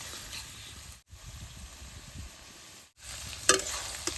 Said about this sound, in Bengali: এরকম করে নাড়ান না গো, আর বারে বারে জাল দেন না গো